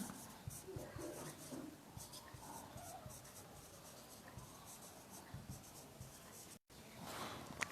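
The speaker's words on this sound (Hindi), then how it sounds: "तो हम अब डायग्राम मिटाएंगे।" Erasing a diagram from a board in a classroom, a soft continuous rubbing and scrubbing with rhythmic strokes, close and fairly quiet, briefly cut to silence near the end.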